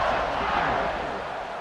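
Stadium crowd roars steadily in a College Football 26 game as a Florida Gators versus Notre Dame kickoff approaches, a loud continuous wash of cheering throughout.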